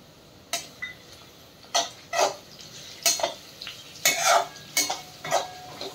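Onions stirred with ginger-garlic paste in a pan for vegetable pulav, a spoon scraping and clinking against the pan in about eight separate strokes over a faint sizzle, close and fairly quiet, with no talking.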